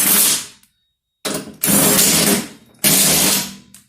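Socket wrench tightening bolts on a Husqvarna YTA18542 riding mower deck: three close, loud bursts of rapid ratcheting clicks, separated by short pauses, with no talking.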